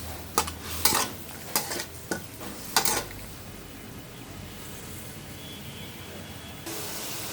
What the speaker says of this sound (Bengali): এরপর মাছটা আমি দিব। এটা ভালোভাবে কষাই নেব।